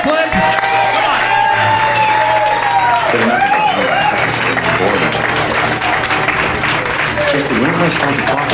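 A studio audience applauds a podcast guest, an actor, with loud, sustained clapping running throughout under cheering and speech.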